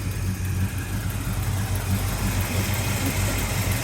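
Steady idle of a 1988 Chevy Monte Carlo SS with a 400 four-bolt-main V8, headers, Edelbrock carburetor and electronic ignition, a deep, even rumble heard close up and alone throughout.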